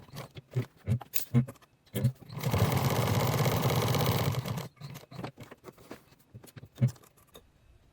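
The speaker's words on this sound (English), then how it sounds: "And now we're going to top stitch these three sides." A sewing machine runs in one steady burst of about two seconds, top stitching three sides of a fabric bag, with short clicks and handling sounds before and after.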